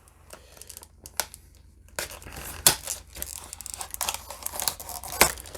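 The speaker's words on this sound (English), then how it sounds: "I'm using a blade because I can't find my trusty scissors." Blade slicing and tearing open plastic blister packaging on a diecast model car, a run of close crinkling, scraping and sharp crackling pops in irregular bursts, with no talk over it.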